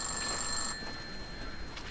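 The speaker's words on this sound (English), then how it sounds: "Yeah, telephone ringing." An in-game telephone rings in the horror game I'm Counting to 6, a thin electronic trill with steady high tones that fades after about a second, leaving quiet room ambience alone.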